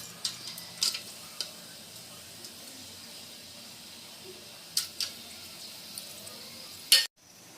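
Whole garam masala spices tempering in hot oil and ghee: a faint, steady sizzle broken by scattered sharp crackles and pops, the loudest right before it cuts off.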